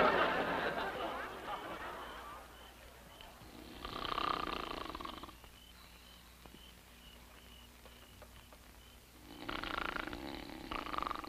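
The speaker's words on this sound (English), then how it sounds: "do you snore?" A man snores in bed in a classic sitcom scene, with rasping breaths in slow cycles and quiet pauses between them.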